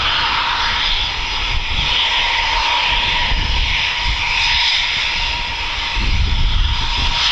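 A military jet makes a performance takeoff and unrestricted climb at RAF Coningsby, a loud, continuous roaring engine blast with a hissing edge that holds steady and surges slightly toward the end.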